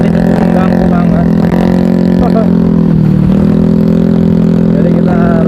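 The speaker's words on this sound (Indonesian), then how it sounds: "Dan knalpot ini cukup mengganggu banget." A loud motorcycle exhaust drones steadily on a night ride near Cikarang, Bekasi, a dense low rumble with slight rises in revs, close and constant throughout.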